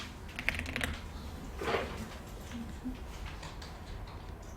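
Light, quick taps on a computer keyboard while adding text to slide shapes in PowerPoint, a soft irregular patter heard close and alone.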